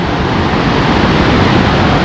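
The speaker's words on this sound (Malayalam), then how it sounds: "അവിടെ ഒരു വെള്ളച്ചാട്ടം കാണാം" A waterfall in the Kalanki hills of Kannur gives a steady, dense roar of rushing water, loud and continuous with no voices over it.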